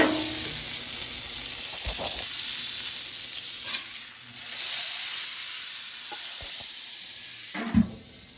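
Cheeseburger patties sear on a grill with the lid down, a loud continuous sizzle and hiss filling the space, broken by a few brief scrapes and knocks.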